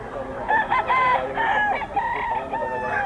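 A Kelso sweater cross gamefowl rooster crows loudly and close, with repeated drawn-out calls and some clucking from other fowl nearby.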